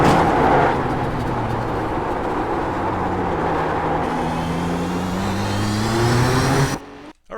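Nissan GTP ZX-T prototype race car at full throttle around Canadian Tire Motorsport Park in the iRacing sim, a loud sustained engine note climbing steadily in pitch before cutting off abruptly near the end.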